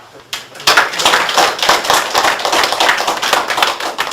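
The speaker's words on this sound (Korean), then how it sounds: "다시 한번 큰 박수" Audience applause at the close of a lecture on the history of democracy at a citizens' politics school, a dense, steady burst of many clapping hands that starts abruptly and carries on loudly throughout.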